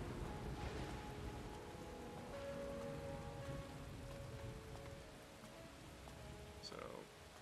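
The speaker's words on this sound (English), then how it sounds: "more rain and all this stuff" Steady rain hisses throughout a horror game set near a lighthouse at night, with faint rumbling underneath and a brief sharp sound near the end.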